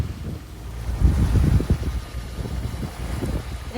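A sailboat motors out of Tahanea atoll in French Polynesia against a very light headwind, with low rumbling engine and water noise mixed with gusty wind buffeting the microphone.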